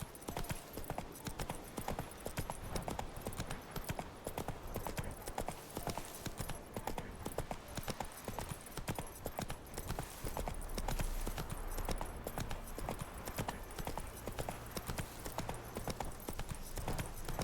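Roach the horse trots along in The Witcher 3, a rapid, continuous clip-clop of hooves sounding evenly throughout, fairly quiet and steady with no pauses.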